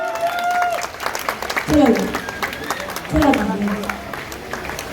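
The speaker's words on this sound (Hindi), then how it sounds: "जोरदार तालियां" An audience gives loud applause as a speaker walks onto the stage at a leadership program event. Dense clapping runs throughout beneath music and a voice that speaks briefly.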